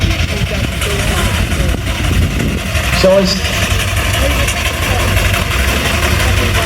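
A 3-inch scale traction engine runs at a steady idle, a continuous low mechanical chug with a busy outdoor crowd murmuring around it at a show.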